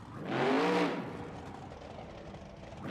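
The Gravedigger monster truck engine at a Monster Jam stadium show, a loud surging roar that swells over the first second and then settles into a steady engine drone with crowd and arena noise behind.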